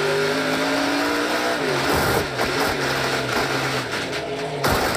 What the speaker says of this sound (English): Now you can hear him trying to grab different gears, and there's nothing there to be grabbed.